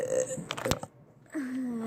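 A single close burp, a short, rough guttural belch, with faint voices heard around it.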